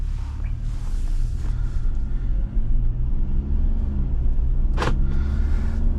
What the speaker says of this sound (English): Engine that powers this is a 2-liter turbo 4.